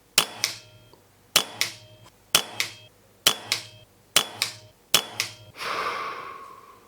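Kral NP02 air rifle shooting pellets at targets 50 metres away, six sharp close shots at a steady pace about a second apart, each with a short ringing tail, followed by a brief rushing noise.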